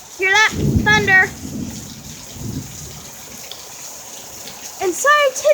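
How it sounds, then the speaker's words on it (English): Low thunder rumbles in short bursts early on during heavy rain, under a steady wash of falling water, while a person talks at the start and end. "Oh, hear that? Thunder."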